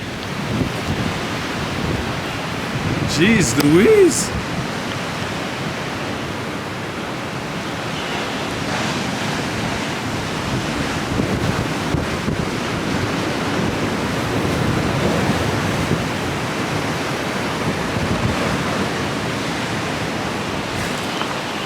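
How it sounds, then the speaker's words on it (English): Strong wind gusts roar across the microphone while rough seas crash along a coast after Hurricane Ida, making a steady, loud, broadband rush with a short spoken exclamation near the start. "We have 100 km/h wind gusts and look at that sea."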